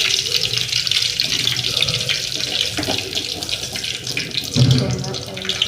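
Peanuts frying in oil for bread upittu: a loud, continuous hissing sizzle close by, with bubbling and crackling, and a brief heavier burst near the end.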